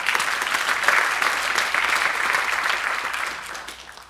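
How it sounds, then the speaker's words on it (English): An audience at a student jazz camp concert applauds steadily between pieces, full and fairly close, then tapers off slightly toward the end. "give it a round of applause"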